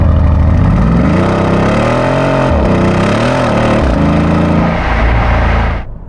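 A Mercedes-AMG E63 bi-turbo V8 accelerates hard, its loud engine note climbing and dipping through quick gear changes before cutting off sharply at the end, with no talking.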